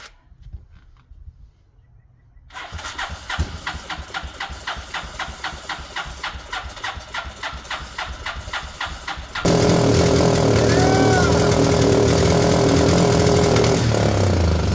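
After a quiet start, an old Suzuki 230 motorcycle engine chugs in a rapid, rhythmic cranking, then catches and roars into a loud, steady run.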